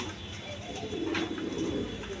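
A pair of pigeons, a Stesar cock and a Modena hen, coo softly in a brief, low murmur heard close up over faint background noise.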